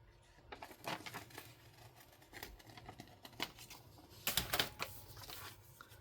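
Scissors snip a small thumb hole into a handmade craft piece, giving a few close, dry cuts and rustles with a quick cluster of crisp snips near the end.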